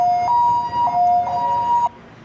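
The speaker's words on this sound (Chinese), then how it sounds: "救护车来到现场，" Ambulance siren arriving at a crime scene, a loud, close two-tone wail alternating high and low pitches about twice before cutting off abruptly.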